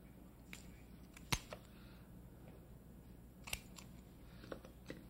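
Shears snipping through the joint of a lobster in a kitchen, a few sharp crunchy cuts spaced apart, close and fairly faint over quiet room tone.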